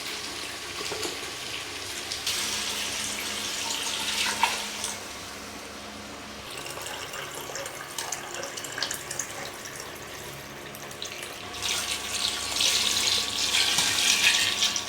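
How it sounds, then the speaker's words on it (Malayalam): Water pours into a pressure cooker for a home-cooked Malayali biriyani, a hissing, splashing stream that comes in bursts, loudest near the start and again toward the end, with kitchen clatter between. "ഇപ്പോൾ നമ്മൾ വെള്ളം ഒഴിക്കുകയാണ്."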